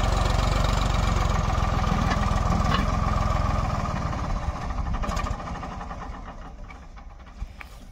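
Ford 3600 tractor engine labouring as it pulls a trolley loaded with sugarcane out of a wet field, a steady loud diesel drone that eases slightly partway through, with no talk.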